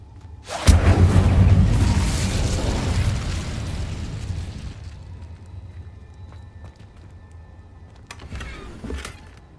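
A fire spell cast in Hogwarts Legacy erupts in a loud, sudden burst that rolls into a sustained roaring whoosh, slowly fading over several seconds before a brief second flare near the end.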